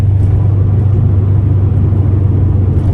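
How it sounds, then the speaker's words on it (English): A Subaru WRX with an aftermarket exhaust drones steadily while driving, giving a loud, continuous low engine rumble with no change in pitch or level and no talking. "The exhaust note is unbelievable."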